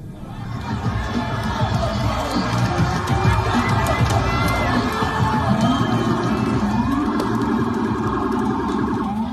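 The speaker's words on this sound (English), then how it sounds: "This move by the officers made the crowd break out in cheers." A large protest crowd on a New York City street breaks into sustained cheering, with police sirens wailing through the dense, continuous roar.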